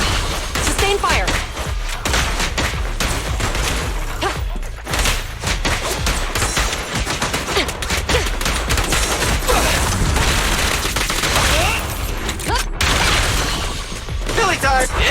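Sustained gunfire in the video game Zenless Zone Zero, a loud, dense stream of rapid shots and booming impacts running throughout with game sound layered over it.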